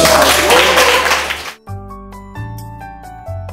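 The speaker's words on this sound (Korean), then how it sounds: "사람들에게 큰 박수 한번 주세요." Students in a school applaud, a dense, loud burst of clapping for about a second and a half that cuts off abruptly into sustained musical tones.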